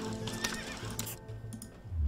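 A horse neighs in the survival video game Sheltered, a short whinny rising over steady game background sound, with a softer trailing call near the end of the brief moment.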